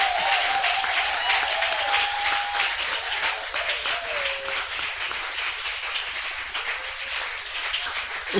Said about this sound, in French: entendre vos acclamations, vos cris de joie